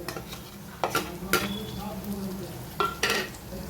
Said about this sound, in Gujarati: હવે એમાં નાખશું ટમેટું.